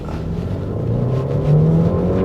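A stationary Mercedes-Benz C-Class with a 202 bhp 1.5-liter turbo petrol engine and 9-speed automatic is revved in sport mode. The engine note climbs steadily in pitch and grows slightly louder, close and continuous, with no talk.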